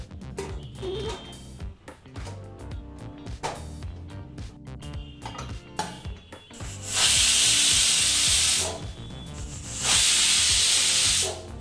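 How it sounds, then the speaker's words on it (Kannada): Two loud sustained hissing whistle blasts of steam burst from a pressure cooker cooking mutton biryani over clattering kitchen noise, each lasting a couple of seconds. "ಹೀಗಿಲ್ಲಿ ಕುಕ್ಕರ್ ಎರಡು ವಿಸಲ್ ಬಂದಾಯಿತು"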